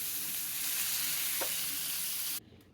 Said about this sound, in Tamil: ஃபிஷ் வந்து ஃப்ரை பண்ணி எடுத்தாச்சு.